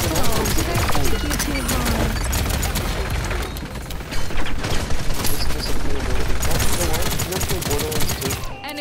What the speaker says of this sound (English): Enemies are firing on me.